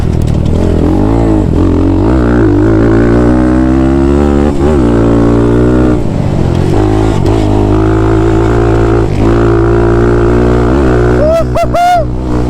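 Air-cooled Thumpstar TSX140 pit bike held at wide open throttle, a loud, close, buzzing single-cylinder engine with rising and falling pitch through gear shifts, then a sharp rev sweep near the end.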